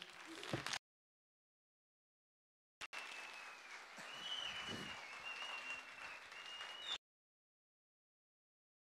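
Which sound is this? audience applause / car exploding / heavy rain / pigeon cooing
audience applause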